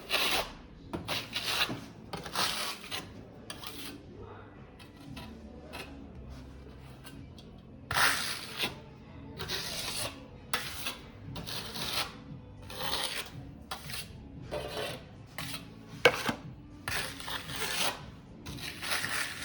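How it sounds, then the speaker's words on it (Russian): A clean short-nap paint roller working decorative plaster on a wall into a fine shagreen texture, giving repeated rasping, rubbing strokes in uneven rhythm, near and fairly loud, with short pauses between passes and no talking. "И создадим с помощью чистого валика, опять же с мелким ворсом, все время повторяю, что с мелким ворсом, небольшую вот такую вот шероховатость."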